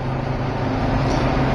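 Steady broadband road roar of car tyres on an Iowa highway surface, a continuous close hum heard from inside the moving vehicle for a brief moment.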